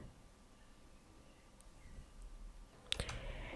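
A few computer mouse clicks while working in VLC media player, faint and sparse, with a pair of sharper clicks near the end over a quiet room background.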